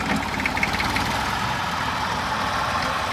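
A 70-model tractor engine idles steadily with a low, knocking rumble, close and continuous throughout.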